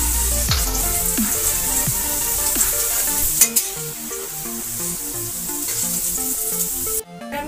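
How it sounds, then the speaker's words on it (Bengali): Cumin, cloves, cinnamon and bay leaf crackle and sizzle in hot oil for Bengali-style ghugni, loud and close, with stirring scrapes and knocks under the hiss before a sudden cut near the end. "আমি ওই তেলে জিরা ফোড়ন দিয়ে দিচ্ছি, লবঙ্গ, দারচিনি, তেজপাতা সব দিয়ে দিচ্ছি।"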